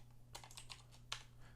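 Quiet keystrokes on a computer keyboard while working in a Linux terminal, a handful of separate clicks with one sharper tap, over a steady low electrical hum.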